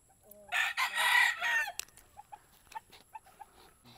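An alimbuyugin chicken on a backyard farm beside a squash garden crows loudly and close by for over a second, then gives a series of short, separate clucks.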